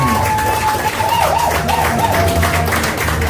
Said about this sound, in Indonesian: tepuk tangan yang luar biasa untuk Bapak Enggar Suryanda